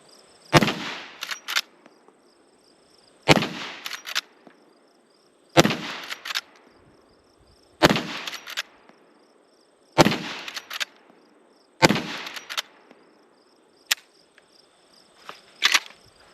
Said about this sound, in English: let's give it a shot with a lever gun